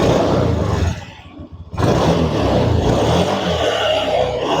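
Engine of a Honda Beat Deluxe scooter revving loud and close, with a brief drop in throttle before it roars back up to a sustained high rev.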